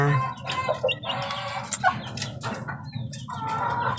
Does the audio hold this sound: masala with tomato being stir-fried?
no